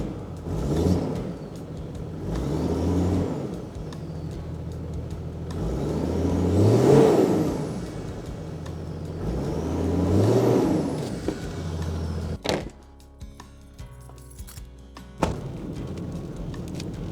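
Toyota Land Cruiser engine, burning oil with a suspected turbo fault, running and revved several times in rising and falling swells before dropping back, with a few sharp clicks near the end.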